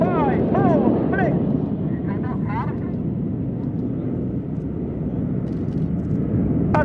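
Red Arrows jets flying the 5-4 split manoeuvre at the Cosford Airshow, a broad steady jet roar holding loud throughout with crowd and a commentator's voice partly over it.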